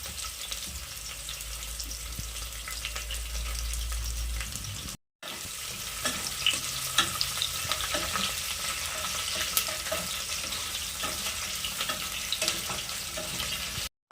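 Onions frying in a pan for chicken biryani, a continuous crackling sizzle with occasional stirring scrapes, steady and close, briefly cut off near the middle, with no talking.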